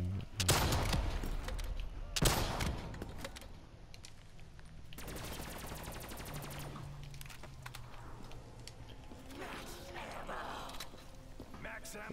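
Gunfire in Call of Duty Black Ops III Zombies: loud single shots early, then a sustained rapid automatic burst lasting a couple of seconds, with further scattered firing over other game sounds.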